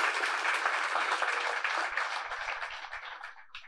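A church congregation applauds together, a steady dense wave of clapping that carries on unbroken, then thins slightly and tails off toward the end.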